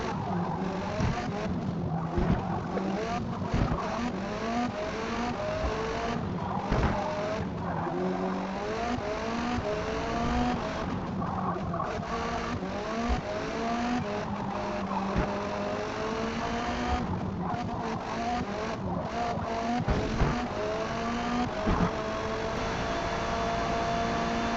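Race car from Forza Motorsport driving hard through a game race, engine note rising and falling with gear shifts and corners, tires squealing now and then, loud and steady throughout with no talk.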